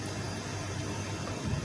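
Water boiling in a pot on the stove while preparing an okra and lamb tagine, a steady, soft broadband hiss and low bubbling rumble throughout, with no talking.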